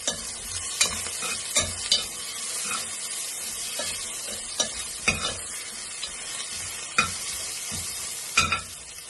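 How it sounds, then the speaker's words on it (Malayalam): Mutton head frying in hot oil, a steady close sizzle broken by repeated sharp stirring scrapes and spatters, with no talking. "നന്നായി എണ്ണയിലാക്കി കൊടുത്താൽ അപ്പം അതിൻ്റെ പച്ചച്ചോറ് പോകും."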